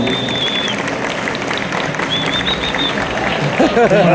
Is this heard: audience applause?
yes